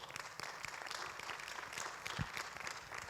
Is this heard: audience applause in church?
yes